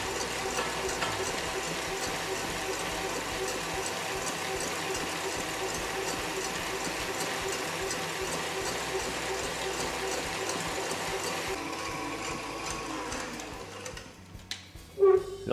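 Steady whirring hum of an electric mixer whipping egg whites with sugar, running continuously and fairly close, with a voice speaking over it before the motor winds down near the end.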